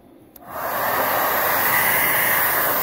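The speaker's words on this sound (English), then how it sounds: "we can run a hairdryer" Hairdryer on its low setting, powered by a 2.4 kW 24 V solar inverter, switching on with a brief click and then blowing a steady, loud broadband whoosh.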